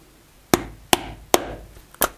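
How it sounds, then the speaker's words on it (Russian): A 4 mm leather hole punch struck with a hammer: four sharp, loud, close knocks spaced roughly half a second apart, each with a short woody ring. "Вот беру высечной пробойник диаметром 4 мм и прикладываю."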